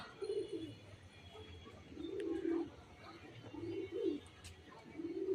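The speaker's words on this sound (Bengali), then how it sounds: "এই যে পায়রা" Pigeons coo in a slow repeating pattern, several soft rolling calls spaced a second or so apart, fairly near against a quiet outdoor background, with faint chirps between.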